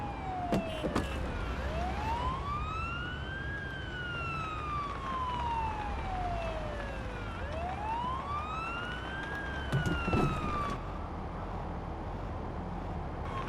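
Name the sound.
ambulance siren in video game Ambulance Life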